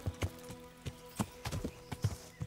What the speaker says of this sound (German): ich probiere es mal mit Reiten